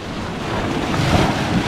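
Sea waves surge and break against the rocky shore at Lung Ha Wan in Hong Kong, a loud, close, continuous wash with heavy wind buffeting the microphone.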